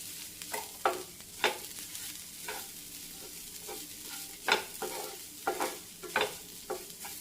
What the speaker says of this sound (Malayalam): നല്ലപോലെ ഒന്ന് ഇളക്കി കൊടുക്കണം.